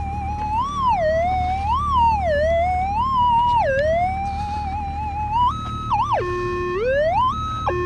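Metal detector sounding over a gold nugget target in the ground: a loud warbling electronic tone that swoops up and down continuously, ending in stepped, jumping pitches.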